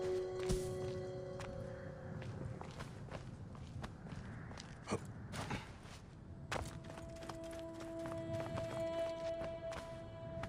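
Horse hooves clip-clop steadily at a walk in Assassin's Creed Origins, with game music tones and occasional thuds underneath and no talk.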